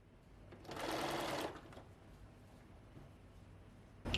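A sewing machine stitches a rolled hem in one short, fairly quiet burst of rapid whirring lasting under a second, with a soft click before it stops and a brief knock at the end.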